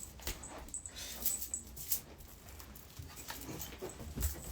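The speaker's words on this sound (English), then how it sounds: "I've got a new little puppy" A new little puppy whimpers in soft, scattered whines and faint snuffles at close range, with light rustling and shuffling around it and no one speaking.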